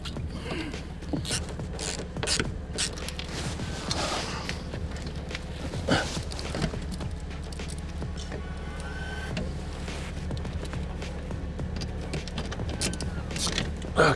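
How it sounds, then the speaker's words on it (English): Screws being undone to remove the roof sun blind of a Mercedes SL Vario, with small clicks, ratcheting and handling noises coming close up and intermittently over a steady low background hum. "It's 4 screws to undo."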